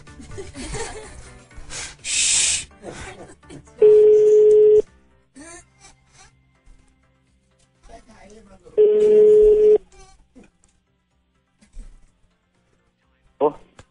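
A telephone call is placed on a landline: brief dialing clicks and noises come first, then a steady ringback tone sounds twice, each ring about a second long. Snatches of talk and handling noise fill the gaps between rings.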